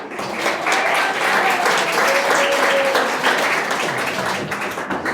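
Applause from the audience at a chamber of commerce annual awards dinner, a loud, sustained round of clapping from many hands that swells and holds for about five seconds before easing slightly.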